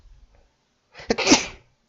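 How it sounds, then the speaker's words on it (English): A single loud sneeze, close by, with a short sharp intake and burst, after a moment of near silence. "Sneeze."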